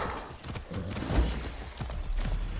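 Horse hooves clop in an uneven rhythm amid Far Cry 6 game ambience, with a few low thuds and faint mechanical clicks.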